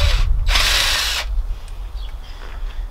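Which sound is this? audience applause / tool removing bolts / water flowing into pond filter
tool removing bolts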